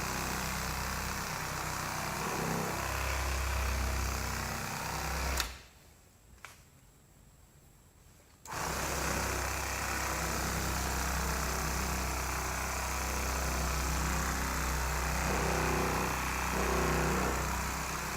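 A power buffer polishes dull paint on a shuttle bus being converted to an RV, running as a steady, close motor drone with a brief drop to near silence partway through before it resumes.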